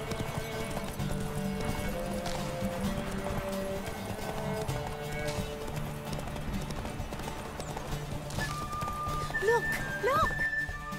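Roach the horse from Witcher 3 galloping with a steady clip-clop of hooves. A brief neigh comes near the end, with game music and other sounds underneath.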